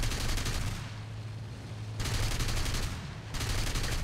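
Aircraft machine-gun fire in the War Thunder air combat game, with a historical battle involving planes like the F4U and Wellington: rapid dense bursts of rattling shots, a short pause around the middle, then more sustained firing over a steady engine drone.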